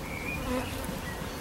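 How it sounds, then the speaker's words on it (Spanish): Honey bees buzz at an open hive on an organic tropical farm in Tenerife, a steady close drone of many insects with no voices. "Está llena, llena, llena de abejas."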